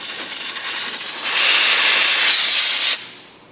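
Air forced in a steady, loud hiss through an aged Corvair brake fluid line, swelling stronger midway then cutting off abruptly near the end, with no voices.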